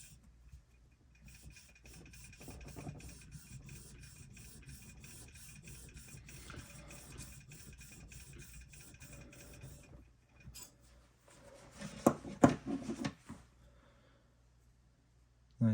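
A chisel or plane blade's back slides on a sharpening stone in a Bridge City Tools HG-4 hone guide, a quiet rhythmic rasping rub that swells into louder, scratchier strokes near the end.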